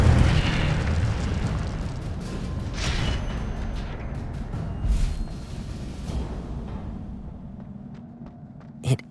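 Incendio fire spell blast in the Hogwarts Legacy game on PS5: a loud, roaring whoosh of flame fills the first seconds, then trails off into a fading rumble with a few scattered pops and a sharp crack at the end.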